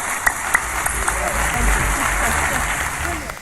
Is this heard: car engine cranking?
no